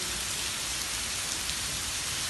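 Steady rain falls in Edirne, a dense, continuous hiss of drops striking surfaces, even and unbroken throughout, with no talking.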